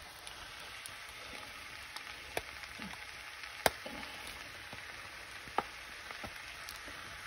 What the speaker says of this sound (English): once everything seems to be well blended, I'm gonna add the egg, just a little bit of egg.